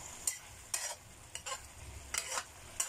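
Chicken stir-fry being stirred in a pan, with a handful of short scraping strokes at an uneven pace over a soft sizzle. The sound is close but fairly quiet, and no one talks.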